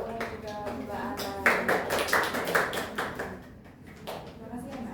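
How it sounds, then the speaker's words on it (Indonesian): People at a classroom learning session clap for two presenters in a scattered, uneven burst that swells midway and then thins, with talk weaving in over the clapping. "Juga berikan tepuk tangan buat Kak Ulan dan juga Mbak Ana"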